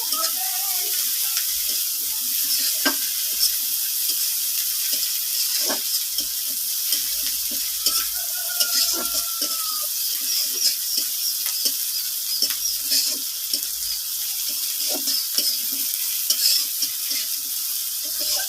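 Shrimp sizzle in oil in a pan for a stalk-and-shrimp curry, a constant hiss broken by scattered spoon-scraping clicks from stirring, with no talking.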